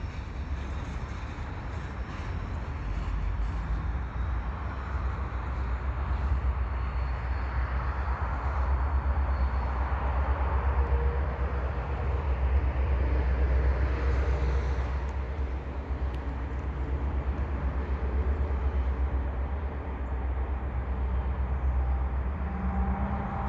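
A long, slow freight train of tank cars rumbles past at about 15 km/h, a steady low roar with faint rolling clatter that swells and eases without pause.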